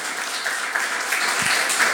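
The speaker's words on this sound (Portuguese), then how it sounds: "vamos dar uma salva de palmas pela vida deles" Church congregation at a Sunday-style worship service claps together for fellow members, a short steady wash of applause at moderate level with a faint low thump partway through.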